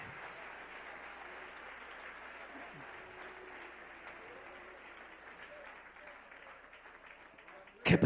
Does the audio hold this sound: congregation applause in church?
yes